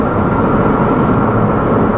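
A 2016 Ford Focus RS on the move gives a loud, steady low rumble of exhaust and road noise, with no talking over it.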